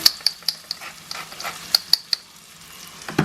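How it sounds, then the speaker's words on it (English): Beef browns in a frying pan while being seasoned with salt and pepper, a steady close sizzle punctuated by sharp clicks of a utensil stirring and scraping against the pan, with no talking. "that's the beef now browning"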